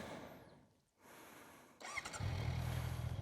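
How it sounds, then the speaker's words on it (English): A Honda CB650R motorcycle engine fires up after a quiet pause, settling into a loud, steady low idle rumble heard close by. "record my voice while riding my CB650R Honda. So let's fire the baby up."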